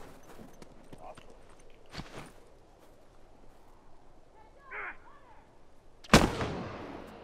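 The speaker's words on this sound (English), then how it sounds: "Over there, firefight!" Gunfire crackles through a multiplayer firefight in The Last of Us Remastered, scattered distant shots early on and one loud close blast near the end, with faint movement between.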